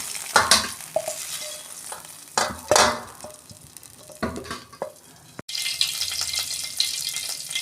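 Oil sizzles and crackles as chicken fries in a pan, broken by scraping and stirring clatter as it is lifted out, with a short gap before the sizzle resumes.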